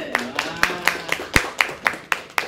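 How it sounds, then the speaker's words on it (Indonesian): A small group claps for a student during a classroom discussion, about ten crisp, evenly spaced hand claps, close and loud, with a brief voice early on. "selamat tepuk tangan deh"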